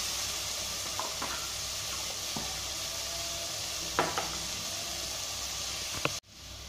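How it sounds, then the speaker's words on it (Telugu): Ginger garlic paste frying in a pan for a foxtail millet and sago khichdi, a steady close sizzle with a few soft stirring clicks, no talking, ending in a sudden cut. "దీంట్లో 1 టేబుల్ స్పూన్ అల్లం వెల్లుల్లి పేస్ట్ వేసుకొని 1 నిమిషం ఇలా ఫ్రై చేసుకోండి."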